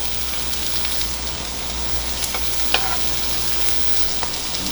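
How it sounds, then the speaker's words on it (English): Taco meat sizzles and fries in a pan as a steady, dense crackling hiss that stays even throughout, with a few faint clinks and no talking. "Also, the meat's still cooking."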